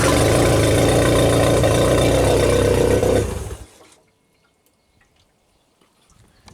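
Loud, steady tractor engine running in a workshop during electrical diagnosis of a Genie boom, holding a constant drone for about three seconds before it cuts off and fades into near silence.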